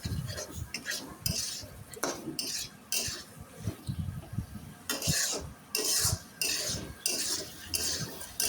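Goat meat is stir-fried in spiced masala in a pan, bursts of sizzling alternating with metal spoon scrapes and clinks against the pan in an uneven stirring rhythm, close and without talk.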